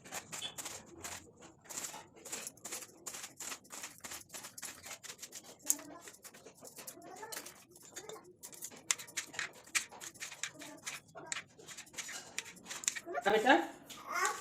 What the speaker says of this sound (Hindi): काट लेता हूँ, टमाटर भी काट लेता हूँ।